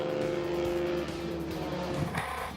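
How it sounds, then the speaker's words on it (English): Historic race cars on a circuit: a steady engine drone with a sustained tonal whine, then a car sweeping past with a shifting pitch near the end, fairly faint and distant. "Coming through Sunset, Paul Schultz is having a great run in his red Miguel as he passes Matt Nash and goes after Andy Schofield."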